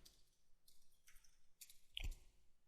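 Computer keyboard typing, a few quiet scattered key clicks in short bursts followed by a single louder thump, close and faint with no talking.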